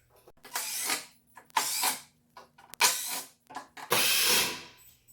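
Power-driver bursts back out Phillips head screws from the upper rack of a Polaris Sportsman ATV, four separate whirring runs, close and loud with brief clicks between them.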